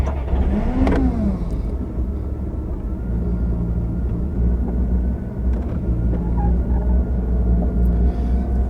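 A 1980 Chrysler Newport engine hot-starting in cold weather, then settling into a steady, close, continuous low rumbling idle with no talking.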